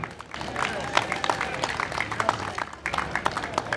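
Audience applause at the Artomobilia car show awards, a dense patter of many hands clapping steadily throughout, fairly close, with a brief dip before the clapping swells again.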